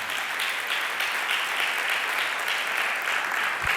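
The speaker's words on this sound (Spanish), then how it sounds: "¿Cuánto puede dar un aplauso fuerte?" Congregation in a church service giving loud, sustained applause that holds steady throughout, broad and even with no talk over it.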